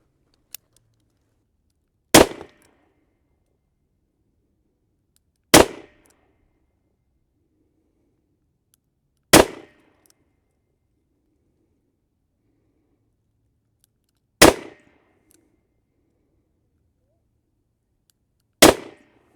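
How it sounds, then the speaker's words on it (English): Five evenly spaced, loud gunshots from a Smith & Wesson Model 65 revolver firing .38 Special hollow-base wadcutters over a chronograph, each a sharp crack with short decay, separated by several seconds of quiet. "I'm on my 4th string of fire with the Granddad Smith & Wesson Model 65 and the hollow base facing forward."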